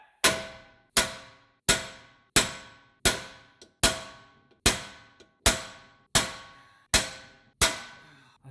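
Twelve evenly spaced, loud metallic clangs ring out as a hammer strikes a tool to press a badly rusted wheel hub out of a 2016 Subaru Impreza during wheel bearing and hub assembly replacement, each blow decaying briefly before the next.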